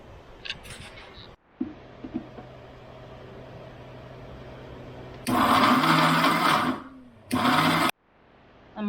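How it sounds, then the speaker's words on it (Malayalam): Kitchen mixer grinder blending coconut chutney with salt, two loud harsh motor bursts of a few seconds each, separated by a short pause, after a quieter steady hum. "നമുക്ക് അരച്ചെടുക്കാം."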